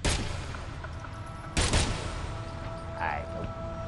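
Gunshots in the action game Agents of Mayhem, two sharp loud bursts of fire with a short electronic tone afterwards, over game background noise.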